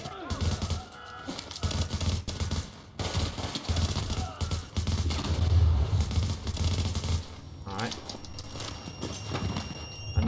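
M4 rifle gunfire and grenade blasts in The Division video game, dense bursts of shots and impacts layered over game music and background noise, with a voice talking over parts of it.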